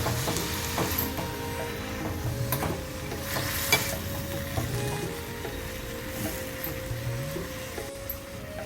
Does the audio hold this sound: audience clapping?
no